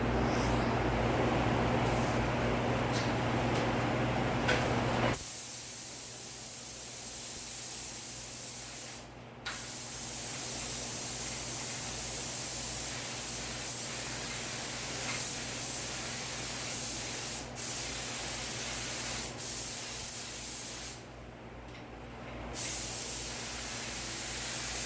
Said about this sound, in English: I can spray it right into that wet bed of 222S right after I get it on